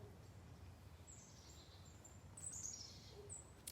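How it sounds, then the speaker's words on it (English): Birds chirp and call outside near a back deck on a Saturday morning, with thin, intermittent high tweets over low background rumble, getting a bit louder toward the end. "We got birds. Happy birds."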